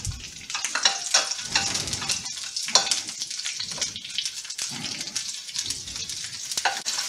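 Chopped scallion and ginger sizzle in a little oil in a hot wok, a steady close hiss with scattered crackles and scraping stirs, no voices.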